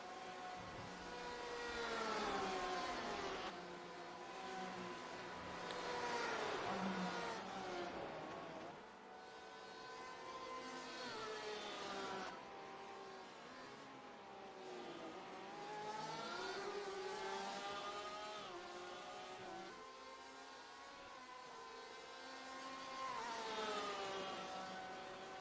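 Race car engine in iRacing at Virginia International Raceway, pulling hard through the esses and up into sixth gear, a loud continuous engine tone that rises and shifts through the gears for the whole stretch with no talk.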